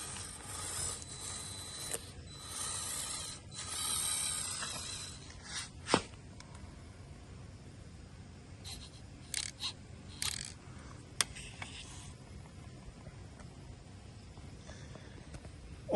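Gearbox of a 1/12 scale British Army half-ton RC truck shifting gear: faint mechanical clicks, ratcheting and creaks, with several sharp ticks scattered over a quiet background.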